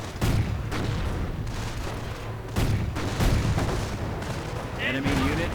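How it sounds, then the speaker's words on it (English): Mortar rounds and gunfire in the strategy game Company of Heroes: heavy booming impacts land in several bursts over a rumbling battlefield, loud and close, with scattered shots between them. "Mortar rounds falling on the Stook, not doing too much."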